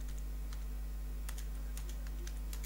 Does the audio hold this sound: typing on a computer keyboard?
yes